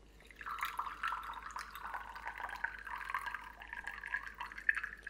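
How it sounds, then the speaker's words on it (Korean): Water pours into the lower boiler chamber of a moka pot, a steady close trickling stream with small splashes and gurgles running throughout, no voices. "그리고 물 넣고 한번 끓일 거거든요"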